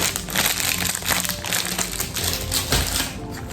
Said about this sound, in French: Scotch transparent.